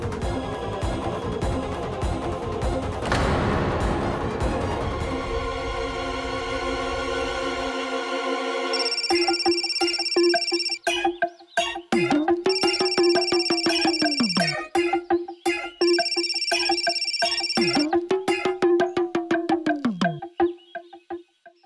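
A phone ringing in a Hindi TV drama dubbed into Turkish: a repeating electronic ringtone pattern with falling tones, loud and close, following a swell of dramatic music.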